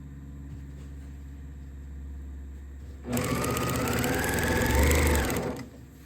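A sewing machine stitches a zipper, running in one loud whirring burst for about two and a half seconds after a quiet hum, then stopping.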